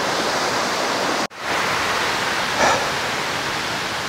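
An unnamed waterfall in Yokoya gorge, Nagano, roars as a loud, steady rush of close white noise, broken by one brief dropout, with no talking.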